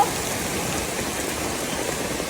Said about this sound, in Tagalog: Grabe lakas ng ulan guys, ayan.